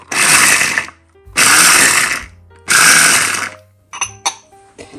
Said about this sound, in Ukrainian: Горіхи, до речі, прибиваю ось таким методом, імпульсами у блендері.